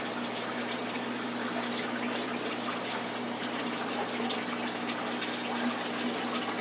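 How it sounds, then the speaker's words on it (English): Continuous running water from a garden waterfall feature beside a fish pond, a steady, even splashing rush heard close up and alone, with a faint low hum beneath it. "You can hear all that running water. That's my waterfall feature I've got up and running now."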